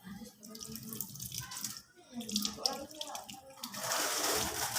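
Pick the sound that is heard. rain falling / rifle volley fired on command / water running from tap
water running from tap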